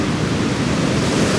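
Surf breaking close to shore on a beach at Anglet, a steady broadband roar of shore break with wind, continuous and fairly loud with no voices.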